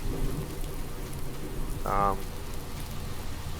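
Steady rain falling in Farming Simulator 19 on a Slovak village map, a continuous broadband hiss throughout with a brief tonal blip partway through.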